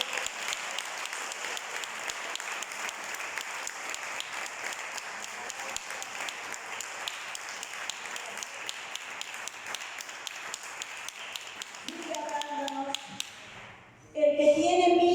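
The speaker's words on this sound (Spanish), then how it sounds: "¿Alguien le puede dar un aplauso al Espíritu Santo de Dios?" A church congregation applauding, dense continuous clapping at a steady moderate level that thins out near the end, followed by a brief tonal sound.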